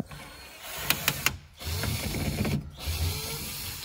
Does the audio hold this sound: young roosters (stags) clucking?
no